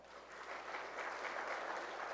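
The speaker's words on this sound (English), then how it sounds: "clap for Karnataka for a minute, please" An audience at a Karnataka road show event applauds steadily, a soft, even wash of clapping from a distant crowd without a break.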